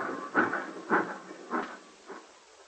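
Departing train sound effect from a 1947 radio drama: four rhythmic, chuffing hiss bursts that weaken as the train pulls away, with no voices.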